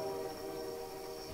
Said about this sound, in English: There's a train coming in!